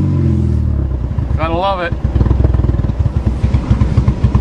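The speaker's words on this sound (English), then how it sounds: "Now there's the fart can exhaust." A 1992 car's engine runs on a cold start with a loud, rumbling fart-can aftermarket exhaust, pulsing steadily throughout, while someone speaks briefly over it.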